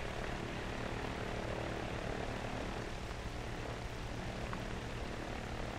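Steady, droning engine noise of a twin-engine propeller airplane in flight, 1,450 horsepower, a constant dense roar with no pauses.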